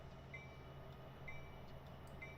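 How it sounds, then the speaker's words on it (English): In a train simulator game, a BNSF SD75I locomotive passes with a faint, steady rumble and low rail noise, heard from inside the cab with no talking. "That's a train going by."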